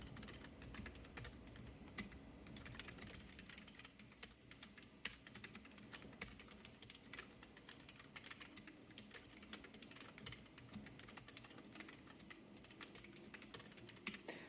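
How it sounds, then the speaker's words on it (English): A Keychron K3 low-profile keyboard with brown switches clatters under steady typing, a soft run of close keystrokes with no one speaking. "once these keys loosened up a little bit, they feel really good to type on"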